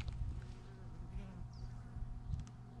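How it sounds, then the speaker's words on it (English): Bees buzzing around prickly pear cactus blooms in a desert garden, a faint, continuous insect hum with occasional passes close by over a quiet outdoor background. "the bees really like these."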